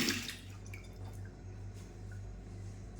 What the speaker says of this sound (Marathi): तर चला हात धुवून घेते